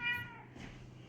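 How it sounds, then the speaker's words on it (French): A pet cat gives a single short, faint meow, close by and quiet, with no one talking. "La petite visite de mon chat clôture la petite journée."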